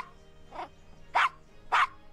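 Three short dog barks from a small dog in the Gabriel Knight PC adventure game, the first softer and the next two louder and sharper, evenly spaced, with no talking.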